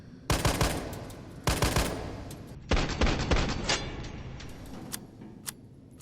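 Three rapid bursts from the G18 handgun in Resident Evil 3 Remake, each a tight cluster of sharp gunshots with ringing decay, followed by a few faint clicks and ticks.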